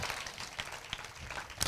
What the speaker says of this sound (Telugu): ఏ సార్ కొట్టండి ఒక్కసారి చప్పట్లు కొట్టి థ్యాంక్ యూ లో